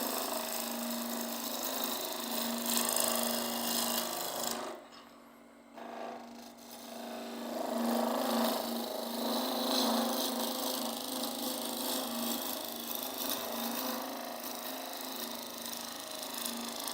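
A wood lathe turns a wooden bud vase while a tool cuts into the spinning blank, giving a continuous rough scraping rasp over the motor's hum, with a short pause partway through.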